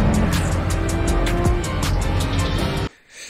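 A Ferrari F80 supercar drives past loudly with a strong engine drone and rising revs, then the sound cuts away abruptly to near quiet at the end.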